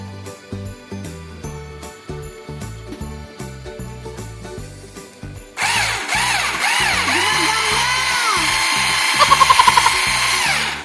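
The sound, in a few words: cordless hand blender whisking egg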